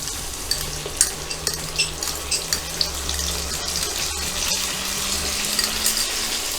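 Chili banana sizzles in a pan as a mixed sauce is poured in, making a continuous hiss with light stirring clicks over a low steady hum.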